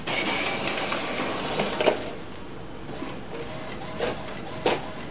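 HP Officejet Pro 8620 inkjet printer running a copy job, giving a steady mechanical whir with soft clicks and a few brief clunks near the machine, no voices.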